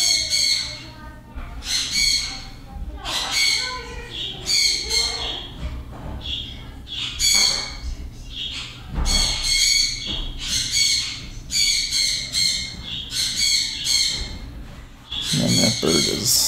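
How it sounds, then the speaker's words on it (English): A highly agitated bird squawks over and over in loud, harsh bursts that come in quick bouts through the whole stretch, close by, with a steady low background hum beneath. "And that bird is freaking out."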